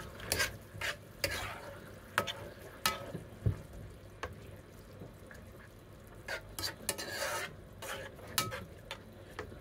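Tofu and minced beef sautéing with seasoning in a pan, heard as a steady low sizzle under repeated scraping and stirring strokes, close and moderately loud, with no voices.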